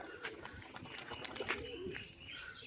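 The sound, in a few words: pigeons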